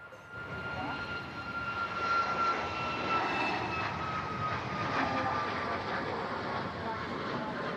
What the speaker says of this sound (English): Great to see the Emirates A380 here at Manchester Airport.